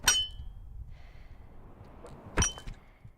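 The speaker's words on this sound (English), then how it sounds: "The grapple bounce is the worst sound in ever." The grapple bounce in the video game Idols of Ash: a sharp metallic clink opening, a faint airy hiss, then a second bright glassy clang, with low rumbling game ambience underneath.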